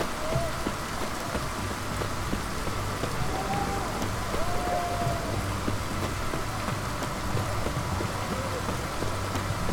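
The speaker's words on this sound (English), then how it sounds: "Looks like rain." Steady rain patters and hisses in The Witcher 3, a dense, even wash of drops with low rumbling underneath and no voices.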